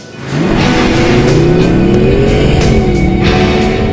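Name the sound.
Mercedes-Benz SLS AMG engine accelerating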